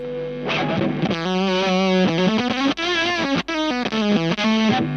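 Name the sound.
electric guitar through fuzz pedal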